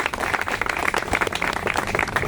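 Thin, scattered applause from an audience at a Hindi-language public address about recruitment, a steady patter of clapping lasting a couple of seconds with no voice over it.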